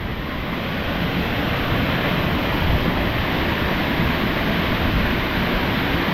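A waterfall rushes in a steady, even roar of broadband noise, fairly close and unbroken, with no voices over it.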